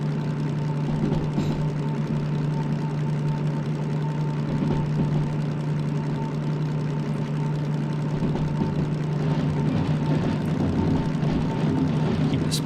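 A train locomotive in Derail Valley runs under throttle with a steady, loud low engine drone and a sustained hum that holds evenly throughout, with faint speech over it.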